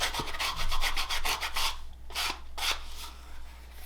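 Sandpaper is rubbed over the edges of leather for a beginner's leather coffee cup sleeve. It makes close, rhythmic rasping strokes, rapid at first and then slower, spaced swipes, alone without speech.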